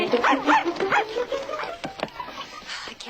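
A dog barks and whimpers close by, several short yips and barks in quick succession over a few seconds, with a voice mixed in.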